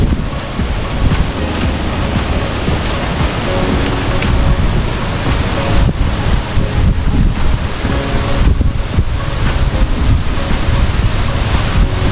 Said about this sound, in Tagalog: yung lakas ang hangin